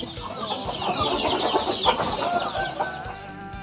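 A sick fighting cock with green and white droppings clucks repeatedly and loudly up close, short busy calls crowding together over a farmyard background with no talk.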